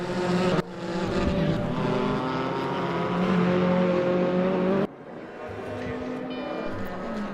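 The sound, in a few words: Porsche GT4 racing car engine in a racing video game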